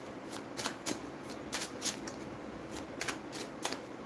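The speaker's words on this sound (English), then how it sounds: "I'm just shuffling the cards." Tarot cards are shuffled close by in a quiet room, a series of quick riffling bursts in an irregular rhythm, soft and crisp, with no talking.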